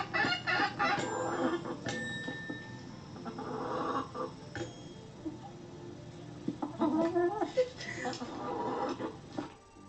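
A chicken clucks and squawks close by in scattered bursts, with people talking and laughing around it.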